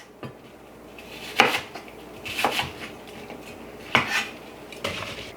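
Apples being cut up on a board for apple crisp, a few sharp knife knocks and clinks of cutlery against dishes at a steady, unhurried pace, close by with no talking.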